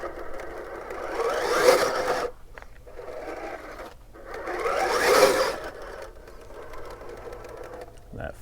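A Rock Pirates Interceptor RC crawler works along a trail, its small electric motor whirring in two rising-and-falling bursts with a short pause between, moderately quiet and close.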